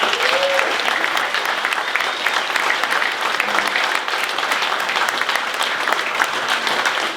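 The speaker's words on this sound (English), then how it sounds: "Give them a big round of applause." Audience applause at a tribute concert during an Irish traditional music summer school, dense steady clapping that fills the whole stretch without a break, loud and close, with no talk over it.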